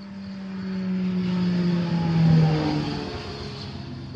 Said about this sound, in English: somebody's racing down the road in their crotch rocket, aren't they?